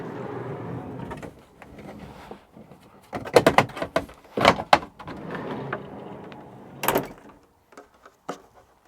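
Side door of a 2019 Volkswagen California camper van slides and clunks as a stored table is pulled out, with scraping rattles, two sharp latch thuds in the middle and a final knock, fairly close.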